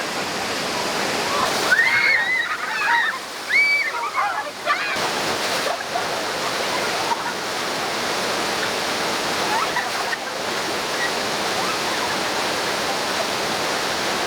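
Rushing, splashing water at the River Rampage rapids ride at Dollywood theme park in Pigeon Forge, Tennessee, a steady broadband roar heard from nearby, with faint voices and a few high squeals rising briefly over it early on.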